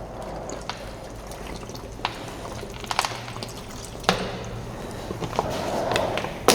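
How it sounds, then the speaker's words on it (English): Water pours and trickles into a small bowl for mixing lost-wax casting material, a soft steady stream with a few sharp clinks and splashes scattered throughout. "I pour my water in."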